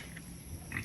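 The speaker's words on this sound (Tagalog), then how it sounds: "ito yung inaalaga natin dito ay yung native na baboy" A native pig on a small farm gives faint grunts and snuffles over a steady background hiss, heard softly from a short distance.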